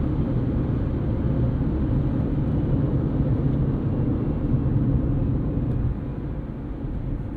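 Steady low tire roar from inexpensive Delinte tires on a 2004 Honda Civic Hybrid rolling down the road, a constant rumbling drone heard from inside the car, easing slightly near the end.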